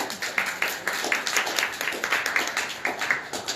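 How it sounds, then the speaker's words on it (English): Audience at a state representative's community event gives a round of applause, a moderate, evenly paced patter of hand claps from a modest crowd, steady throughout. "We can give Jason a round of applause."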